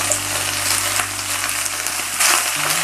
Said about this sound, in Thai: ต่อไปบ้านก็จะใส่ผักแขนงลงไปเลยค่ะ ค่อยๆผัดไฟแรงๆนะคะ